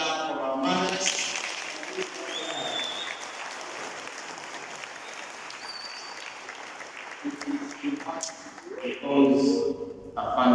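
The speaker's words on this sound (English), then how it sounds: "can we clap for our mothers?" Church congregation clapping for mothers at a Catholic Sunday service, a steady bed of many hands applauding at moderate loudness for several seconds, with a voice speaking at the start and the speaker's voice returning as the clapping ends.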